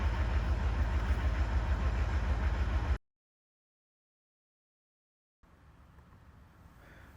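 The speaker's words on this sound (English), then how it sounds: "So you have to have it so it's just turning over in order to see the amperage." A Cummins ISBe diesel engine cranking over without firing during a relative compression test, a loud steady starter-driven churn that cuts off abruptly, then a quieter droning resumes after a silent gap.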